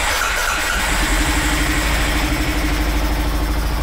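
2011 Arctic Cat 700 EFI ATV engine running close by after a hard-starting and idle problem, a loud steady throbbing idle that rises slightly, no voices.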